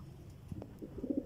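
A racing pigeon at a race loft in Caba, La Union gives a few soft, low coos near the end of a short, quiet stretch of faint background noise.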